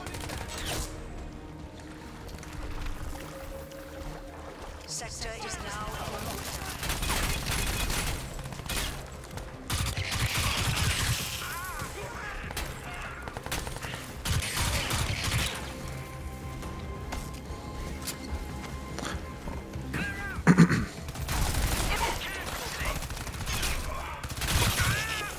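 Sustained gunfire in the video game Crysis 3, dense rattling bursts and crackling shots layered over a rumbling, busy game soundscape that runs loud and continuous throughout.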